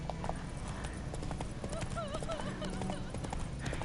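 Roach, the horse in The Witcher 3, clopping along with steady hoofbeats and a wavering whinny midway, close and clear amid busy game ambience and a voice talking.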